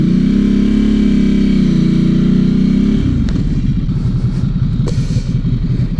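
A 2012 Ducati Hypermotard 796 fitted with a Termignoni exhaust, its engine loud and close with a steady high drone that drops after a few seconds into a deep, lumpy idle rumble.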